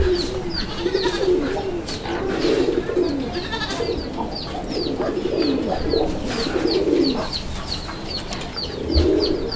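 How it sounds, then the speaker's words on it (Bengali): A breeding pair of Raj-Golla pigeons in full heat coo close by, sounding repeated throaty calls in an uneven rhythm over a low rumble of background noise. "ফুললি ব্রিডিং মোডে আছে কবুতরের জোড়াটি"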